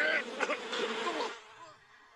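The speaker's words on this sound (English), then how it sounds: "you can throw bees at somebody and it sounds like this." Thrown bees in the Super Smash Bros video game give a dense, close buzzing swarm that holds for over a second and then drops to a fainter hum and fades.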